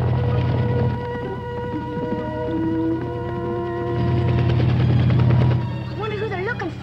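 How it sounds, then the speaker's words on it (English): A steady low helicopter rotor drone runs throughout, swelling louder midway, with music-like tones and voices layered over it. "The helicopter seems to be chasing him."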